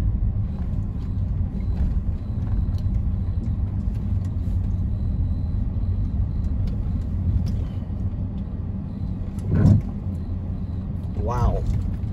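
A turbocharged Mercedes W203 with an M104 engine drives along a potholed highway in South Africa, giving a steady in-cabin road rumble and engine drone with a couple of brief bumps near the end; someone talks over it.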